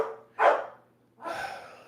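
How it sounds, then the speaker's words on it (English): Two short dog barks, close by, separated by a brief pause; the second is a bit longer and rougher than the first. "my dog is barking again"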